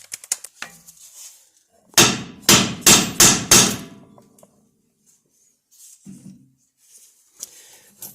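A hammer strikes a tapered suspension joint on a Jeep TJ front end five times in a quick, even burst of loud, close metallic taps, followed by a few faint scattered knocks and quiet handling.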